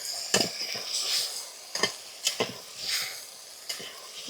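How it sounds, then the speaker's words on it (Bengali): Chicken pieces stirred in a hot frying pan: a soft, continuous sizzle broken by a series of sharp scraping and clattering strokes of the spatula against the pan, close up, with no talk. "মাংসটা একটুখানি নাড়িয়ে নিই"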